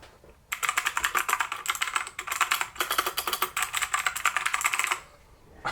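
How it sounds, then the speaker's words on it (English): Rapid clattering keystrokes on a T8 RGB mechanical backlit keyboard, a dense, steady run of close, crisp clicks lasting several seconds before stopping abruptly, with no talking. "This is a T8 RGB mechanical backlit keyboard."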